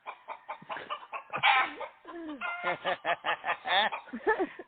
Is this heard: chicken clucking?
yes